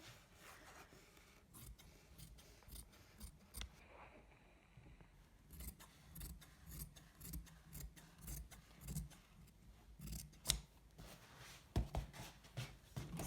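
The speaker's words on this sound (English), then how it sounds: "I'm gonna cut extra now" Scissors cut through fusible interfacing fabric for a fly front zipper in a series of quiet, irregular snips and crisp rustles, close by and faint, with no speech.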